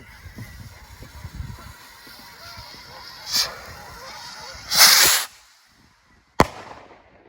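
Geese honk excitedly outdoors during a nighttime rocket fireworks session. Their cries mix with several loud firework bursts and crackles, one of them long and sustained, followed by a final sharp bang.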